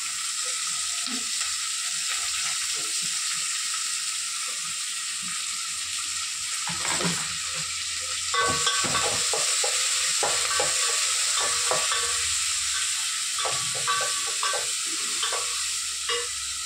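Tomatoes fry and get stirred in a pan, a continuous hiss of sizzling layered with repeated scraping and knocking of a spoon against the pan that grows busier in the second half.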